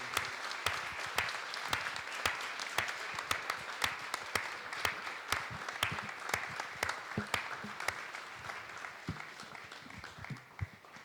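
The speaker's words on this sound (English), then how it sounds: "I would like to give you one more applause for the winner" An audience at an award ceremony applauds the winner with distinct, quick claps that stay fairly soft and distant, in a sparse, steady patter.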